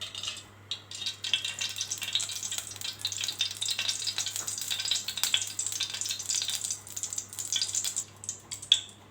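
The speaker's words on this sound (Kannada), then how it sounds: "ಗೋಡಂಬಿನ ಫ್ರೈ ಮಾಡ್ಕೊಳ್ತಿದ್ದೀನಿ." Cashews fry in ghee in a hot pan for jackfruit payasam, giving a steady, close crackling sizzle broken by light stirring scrapes, with no talk.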